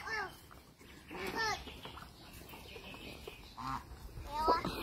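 Farm geese honk in repeated short, nasal calls, some close and loud, others fainter, mixed with other fowl and scattered voices in the background.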